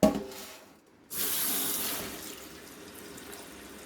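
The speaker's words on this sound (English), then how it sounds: "now what I'm going to do is I'm just going to get some water in here" Water from a tap runs steadily into a pot, starting abruptly after a brief pause and continuing as a loud, even splashing rush that softens slightly while it fills.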